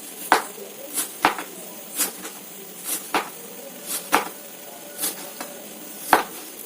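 A knife chops through fruit on a board in a steady series of about nine sharp, close cuts roughly every 0.7 seconds, with no voices.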